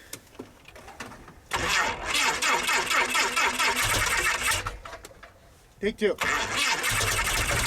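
A cold small-airplane engine in Alaska, started without preheating, sputters and then catches into a loud, rough, rapid clatter, cuts out briefly and fires up again, with a voice speaking at the start.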